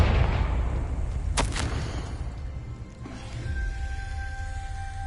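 A Confringo blasting-spell explosion in the video game Hogwarts Legacy: a sharp, loud burst strikes early and is followed by a rumbling tail and a fainter second thud, with no talk.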